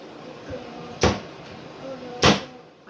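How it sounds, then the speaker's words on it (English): Under-sink kitchen cupboard doors opened and closed by a young child make two distinct wooden knocks about a second apart, close by, with soft room noise in between. "Playing with the cupboard doors under my sink."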